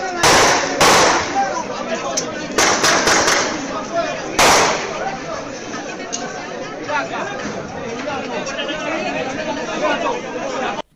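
Sharp gunshot cracks burst out in quick clusters and single loud pops inside a prison in Panama, close and loud, over steady chatter and shouting voices throughout.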